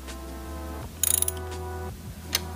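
A hand ratchet clicks in a quick burst of several pawl clicks while a bolt is tightened on a car alternator on a Mazda MS3, MS6 or CX-7. It sounds close and is followed by a single later click over a low mechanical hum.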